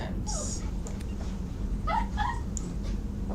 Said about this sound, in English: I can hear the dog.